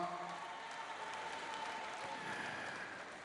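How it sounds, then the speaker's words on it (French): Crowd applauding at an outdoor tribute concert in Abidjan, a continuous distant wash of clapping with faint murmuring and background music tones beneath. "On les applaudit très fort."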